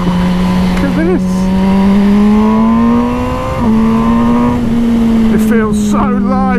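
A 2020 MV Brutale 1000 RR super naked motorcycle revs on the road, its loud, close engine note climbing steadily in pitch, easing briefly, then pulling up again.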